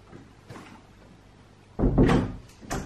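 A door shuts with a solid thud about midway, followed by a short rattle and a second lighter knock, loud against a quiet room.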